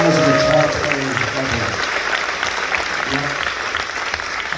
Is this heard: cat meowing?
no